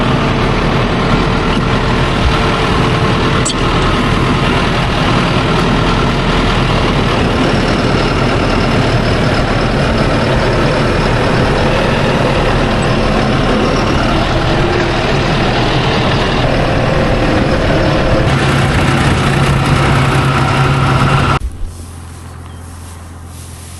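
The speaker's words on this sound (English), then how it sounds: "That truck sounds real good." A truck engine idles with a steady, rumbling low drone for about twenty seconds, then cuts off abruptly, leaving quiet.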